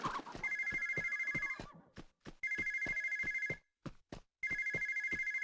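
An old-style telephone bell in the video game Alexandra Ledermann Le Haras de la Vallée rings in three steady bursts with short gaps between them, fairly close and clear, with faint clicks in the pauses.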